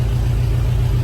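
A car engine runs loud with barely working mufflers, a heavy, throbbing low rumble filling the short stretch at close range.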